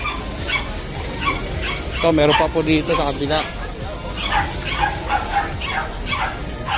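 Dogs bark and yip close by, with whimpering mixed in, while a person talks over them.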